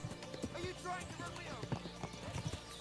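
Horse hooves clip-clop on the ground in the video game Kingdom Come: Deliverance II, a run of close, uneven hoof knocks with people talking over them.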